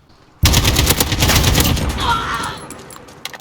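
A video game AK-47 rifle fires a sudden, loud, sustained full-auto burst at close range, the rapid shots blurring into a dense roar that gradually eases toward the end.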